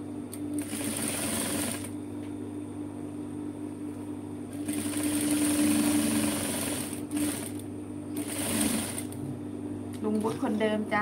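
A sewing machine stitches sleeve pleats on a linen shirt, a continuous close mechanical whirring with rapid needle clatter that rises and eases in long runs, while a person talks over it.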